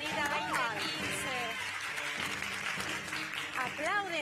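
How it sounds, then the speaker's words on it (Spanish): Women clap together in a television studio during a reality show segment, a steady continuous applause with voices and talk running over it throughout. "Aplauden las chicas allá."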